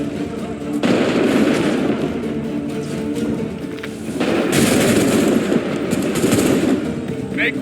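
Massed musket volleys in Assassin's Creed 3 on a smoky battlefield make a dense, continuous roar of gunfire that swells louder partway through, with shouting voices mixed in.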